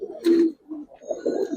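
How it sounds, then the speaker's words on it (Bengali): Giribaz pigeons coo in short, soft bursts close by, with brief pauses between low throaty calls and no talking. "খাকি কবুতর দেখেন ভাই, নর্মালি ওটা বিশাল সাইজ।"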